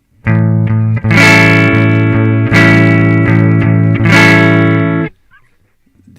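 Harsh overloaded digital distortion from an equalized signal clipping past the processor's maximum, a loud buzzy tone sustained in three swelling bursts before cutting off near the end.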